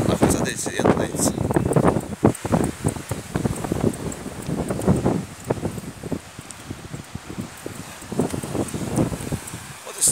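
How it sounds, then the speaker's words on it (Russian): Sea surf washing against the rocks at Sozopol's old town in Bulgaria, a steady outdoor rush of waves with gusting wind over the microphone, while someone talks throughout. "Вот и снимаю ведь шум моря."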